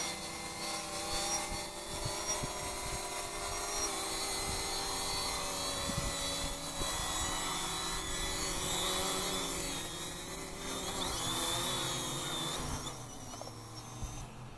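UpAir video drone descending and setting down for a landing, its steady high-pitched rotor whine and buzz running continuously and fairly close throughout, with no talk.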